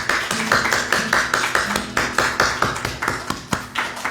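Applause fills a church youth evening service in Namyangju, with repeated broadband bursts that could be rhythmic clapping, fairly loud and steady across the whole stretch, with a faint low tone underneath.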